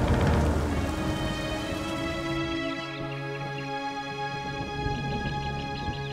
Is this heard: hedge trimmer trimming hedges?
no